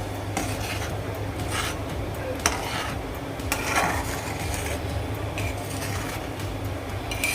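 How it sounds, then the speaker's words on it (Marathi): A spoon stirs rice kheer in a pot as jaggery melts, soft scraping and rubbing strokes with occasional sharper scrapes against the pot, close and fairly quiet over a low steady background hum. "गुळ घातल्यानंतर सुद्धा आपण हे व्यवस्थित असं ढवळत राहायचं गुळ आपला पूर्ण मेल्ट होईपर्यंत"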